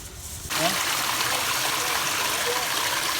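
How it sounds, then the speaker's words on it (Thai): A pot of water for spicy snakehead fish soup comes to a rolling boil, switching on abruptly as a loud, dense bubbling rush that stays steady and close, with a voice faintly underneath. "ตอนนี้น้ำก็เดือดปุ๊บปุ๊บปุ๊บปุ๊บแล้วนะครับ"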